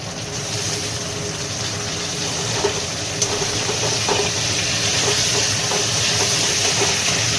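Pointed gourd pieces go into hot oil with already-fried potatoes and salt, producing a loud, continuous sizzle and hiss with small crackles and a few light clinks of a utensil, no talking.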